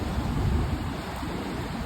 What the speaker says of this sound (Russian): Понятно, такой ветер, можно сказать, ураганный, очень несвойственный для Черноморского побережья.